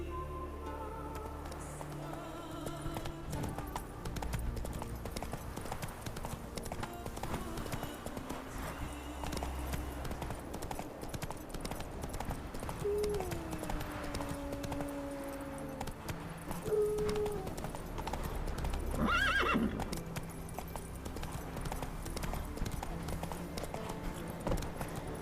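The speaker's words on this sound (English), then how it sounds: "Whoa there, Roach" Hooves clop rhythmically as a horse moves in the video game The Witcher 3, steady mid-level beats under game ambience with a brief musical swell near the end.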